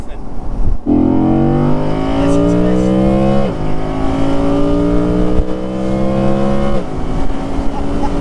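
Audi Spyder engine revving while driving, loud and close, with rising tones that climb through each gear and drop sharply at two shifts, over steady road noise and a few voices.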